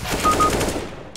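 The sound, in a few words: AK rifle gunfire in CS:GO video game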